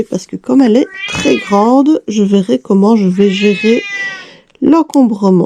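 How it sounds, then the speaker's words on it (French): A cat meows repeatedly at close range, rising and wavering calls interleaved with someone speaking French, some meows overlapping her voice while she works on a large cross-stitch project. "là c'est le chat qui se manifeste"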